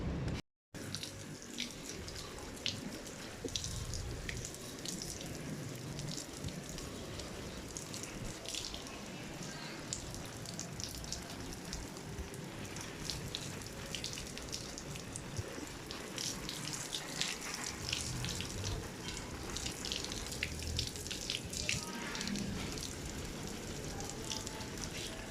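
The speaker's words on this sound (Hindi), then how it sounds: "अभी मैं पाइप लगाती हूँ और फिर पानी डालती हूँ।" Water running steadily from a hose pipe onto potted plants on a home rooftop, a continuous broadband splashing and hissing that stays constant and fairly close throughout, with no talking.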